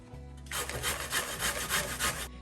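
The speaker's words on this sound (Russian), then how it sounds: "И теперь буду натирать на вот такой крупной терке." Zucchini is rubbed against a coarse grater in a rapid run of about eight rhythmic, raspy strokes, close and fairly loud, over a low steady hum with no talking.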